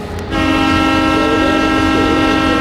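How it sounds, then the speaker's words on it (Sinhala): A passing train blows a loud, sustained horn up close, starting abruptly after a brief moment of rumbling, with the rolling noise of the wagons underneath. "ඇයි මේ කෝච්චි?"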